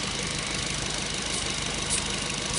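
A VW Mk4 Golf GTI engine running steadily at idle, a constant low rumble with a faint knocking rattle, close and loud throughout, during a secondary air injection system check.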